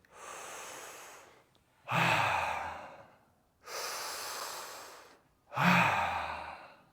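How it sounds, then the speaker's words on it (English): Slow, deep breaths during a breathing exercise: two long inhales alternate with two forceful exhales, each lasting over a second, close and loud with short pauses between, no talk. "Really try and get into a big breath, deep into the stomach, up to the chest"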